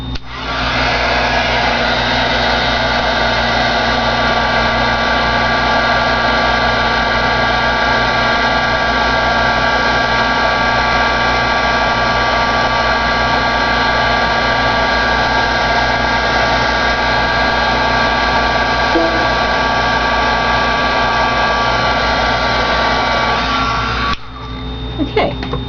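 A heat embossing tool blows hot air over a card for an alcohol ink craft project, giving a steady, close whirring blow for about 24 seconds before switching off near the end.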